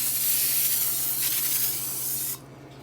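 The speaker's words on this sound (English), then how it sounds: "I'm going to use a vegetable oil-based cooking spray to prep our pans." Vegetable oil-based cooking spray hisses in one continuous close burst for about two seconds as it coats baking pans, then cuts off abruptly.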